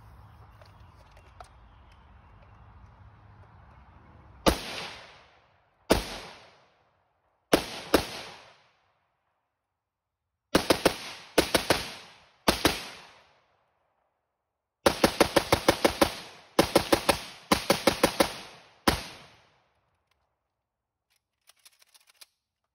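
A PSA AK-103 rifle fires through a magazine outdoors in loud, sharp bursts and single shots: a couple of isolated reports, then rapid strings of two to six rounds separated by short pauses, each ringing off briefly.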